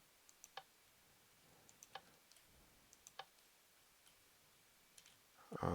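Faint, sparse clicks in Minecraft, a handful of small sharp ticks spaced irregularly over several seconds in near silence, ending with a louder noise burst.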